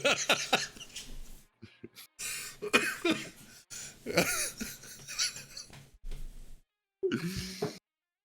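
A person coughs and clears their throat in several separate rough bursts with short silent gaps between, close and fairly quiet, with faint breathy vocal sounds mixed in.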